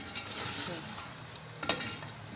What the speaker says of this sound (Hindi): अब ये मैं इसको इसके साथ भूनूंगी, इसके साथ फ्राई होगा।